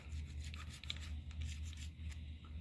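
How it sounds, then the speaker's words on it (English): Sandpaper chucked in a tool rubs and rasps over starter solenoid parts from a 1980 Thunderbird, a quiet, steady scratchy grinding with short pulsing strokes, close up. "Just sand it real quick."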